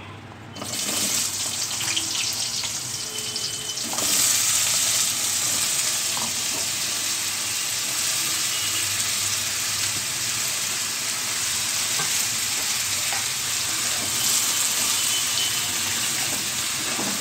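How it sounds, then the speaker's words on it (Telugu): Ridge gourd pieces dropped into hot oil in a pan give a sharp rise of sizzling that settles into a continuous, even frying hiss for the rest of the stretch. "ఇదే నూనెలో ఈ బీరకాయ ముక్కలు వేయాలి"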